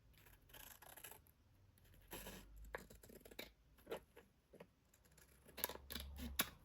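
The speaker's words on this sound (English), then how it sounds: "I'm just going to cut around the edges And I'm going to round the corners again." Scissors cutting around the edges of a piece of paper and rounding its corners, a series of close, quiet snips and rustles in uneven bursts, no talk.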